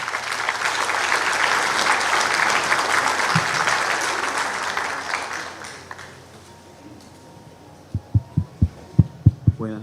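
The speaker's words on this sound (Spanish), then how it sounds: "le pedimos un aplauso, por favor, al ingeniero Lázares" An audience at a seismic-risk engineering forum applauds an engineer with steady, full clapping that fades out after about six seconds, leaving a quiet hum and a series of low, regular thumps.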